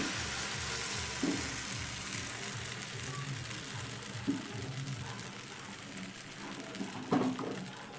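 A ladle of batter cooking in a hot, oil-free pan, a soft continuous sizzle with occasional light knocks and scrapes as the pan is swirled, fairly quiet and steady throughout.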